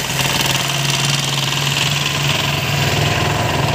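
Farm machine engine running at night in a field, a loud, steady, throbbing idle with a constant low hum and no break.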